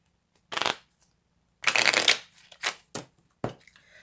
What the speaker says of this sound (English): Let's get a good shuffle in there.